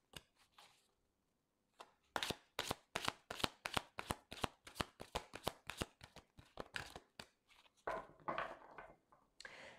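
Oracle cards shuffled by hand, close and crisp, in a quick run of riffling flicks after a short pause, then a looser burst of shuffling near the end.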